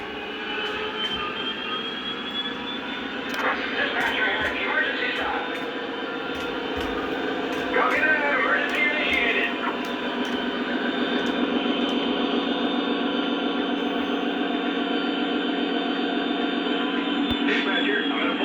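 A Lionel Legacy Conrail SD40 model diesel locomotive plays its emergency sound effects, a steady droning engine rumble with higher whining tones and intermittent hissing bursts, while someone talks over it.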